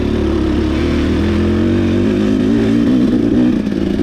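A Yamaha YZ250 two-stroke dirt bike roars loud and close at a motocross race, its engine note steady and unbroken with a slight rise and fall in pitch as it rips along the track.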